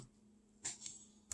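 A few keys pressed on a calculator to enter a number, giving three short, quiet clicks spaced apart in a still room with a faint steady hum.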